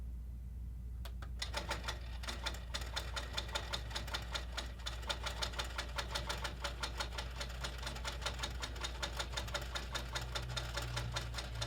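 Sewing machine stitching a seam guided along a ruler, a fast even mechanical chatter starting after a brief quiet moment and running steadily under a low background hum.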